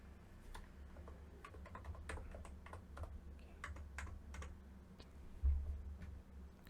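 Steady keyboard typing while writing Flutter widget code, quick light keystrokes and occasional clicks continuing throughout at moderate level, with a low hum underneath and one heavier tap near the end.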